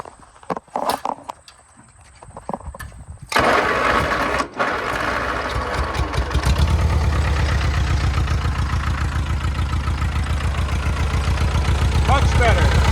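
An Oliver OC3 crawler tractor engine runs close by on a little choke, settling into a steady, rhythmic idle after a few seconds of handling clatter and a brief voice.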